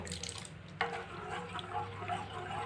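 Water is poured from a glass into a cooking pot while a sweet is being made at home, a soft quiet trickle and splash close by with no voices.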